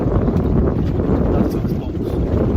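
Strong wind buffets a small boat heading into rough, cold water toward Ogden Point, a steady loud rush and rumble throughout with no pauses.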